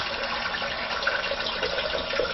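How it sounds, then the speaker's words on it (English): Tap water runs into a bathroom sink in a steady, close, continuous rush with a slight gurgle, no voices present. "I need some water in my sink."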